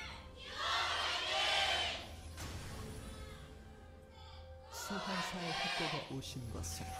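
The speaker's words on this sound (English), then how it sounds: "Fans cheering on their teams." Crowds at a League of Legends match between KOO Tigers and SK Telecom T1 in the LCK Summer 2015 season cheer in two loud bursts, with a commentator talking in the quieter stretch between them.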